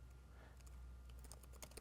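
Keys tapped on a computer keyboard while entering help text in a XAML runtime editing tool, a faint, quick run of light clicks over a steady low hum, with no voices.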